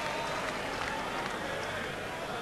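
Spectators at a 1984 Waterloo bowls semi-final or final applaud a double, a steady, fairly quiet wash of clapping from a distant crowd that lasts throughout.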